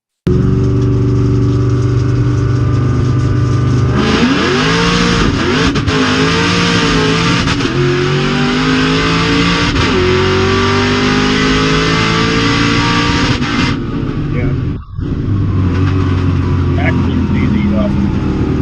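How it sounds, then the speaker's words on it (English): A loud Whipple-supercharged Mustang Cobra engine roars and revs, stutters and briefly cuts out near the end, then catches and comes back to life. "Car shut off. I kept my foot in it. You'll hear it come back to life."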